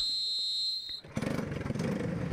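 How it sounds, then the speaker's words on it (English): Several Briggs & Stratton racing kart engines fire up on the grid after a steady high tone cuts off, a loud, busy burst of buzzing, rattling motors at close range. "Here we go, fire them up, boys, as the engines get started"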